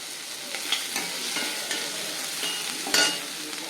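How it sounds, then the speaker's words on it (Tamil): Onions sauté with a pinch of salt in a hot pan, giving a steady soft sizzle with occasional scraping stirs and a louder knock near the end; no one speaks. "இப்போ இந்த வெங்காயம் வதங்கிறதுக்காக நம்ம கொஞ்சமாக உப்பு போட்டுக்கிறோம்"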